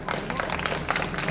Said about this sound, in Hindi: एक जोरदार तालियां छोटी सी बच्ची के लिए